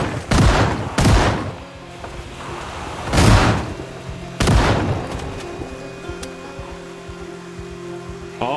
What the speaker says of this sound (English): I liked the idea of using my shotgun to purge the area.